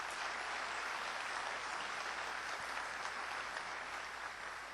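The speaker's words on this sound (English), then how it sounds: "please recognize these dignitaries with a round of applause" Faint, distant audience applause at a 2004 town hall meeting honoring visiting dignitaries, an even, sustained patter of clapping with no voices over it.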